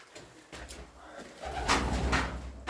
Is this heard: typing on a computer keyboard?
no